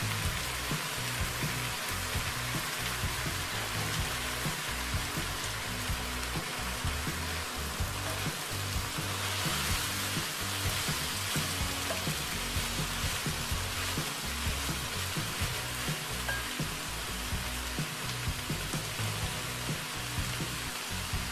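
Banana blossom stir-frying with chicken in a pan for a traditional Indonesian dish, giving a steady, close sizzle and crackle of frying that runs unbroken without any talk.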